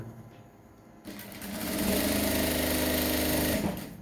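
Sewing machine stitching trousers, a quiet start giving way to a steady, fast mechanical whir that builds, holds continuously, then eases off near the end.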